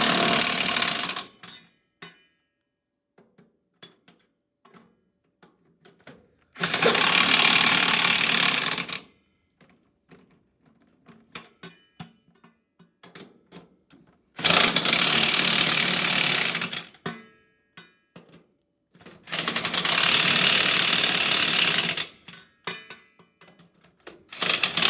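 Power ratchet tightening the left rear wheel of a race car, four loud sustained bursts of whirring separated by quiet gaps with faint clicks and handling noises.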